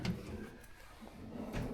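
A hotel room drawer in a Hilton Garden Inn in Tirana, Albania, slid open and shut, giving soft, close wooden thumps and a faint slide at the start and end of a quiet room.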